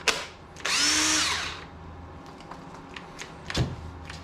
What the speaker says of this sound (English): Another Harbor Freight drill. At least this one plugs into the wall.